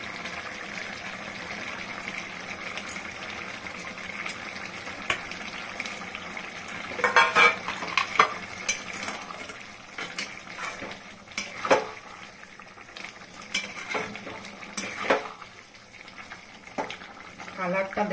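Prawns go into a pan of simmering jackfruit and potato curry, giving soft bubbling and frying hiss punctuated by scattered clinks and scrapes of a spoon against the pan, with a few sharper knocks midway.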